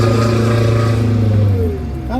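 An MCI5 coach bus engine pulls hard under acceleration, a loud, steady low drone that holds for most of the moment before dropping off, with a brief rising whine near the end.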